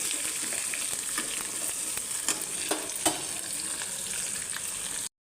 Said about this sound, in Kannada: ಈರುಳ್ಳಿ ಹಾಕೋತಾ ಇದ್ದೀನಿ ಕರ್ಜೆ ಹಾಕೋತಾ ಇದ್ದೀನಿ ಒಂದು ಸ್ವಲ್ಪ ಕೆಂಪಗಾಗೋ ತನಕ ಫ್ರೈ ಮಾಡ್ಕೊಳ್ಬೇಕು